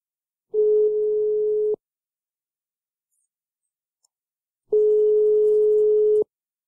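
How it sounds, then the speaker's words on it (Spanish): Two long, steady telephone line tones sound while a call is being placed, each lasting over a second with a clear gap of silence between them. "vamos a ver si la señora Beatriz nos coge el teléfono."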